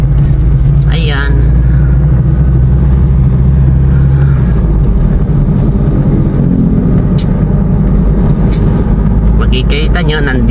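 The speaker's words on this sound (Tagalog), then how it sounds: "Nagda-drive po tayo kasi kikita nyo naman po, ayan, medyo traffic ang area." A car drives through traffic on a national road, its low engine rumble loud and constant, with some passing vehicle noise.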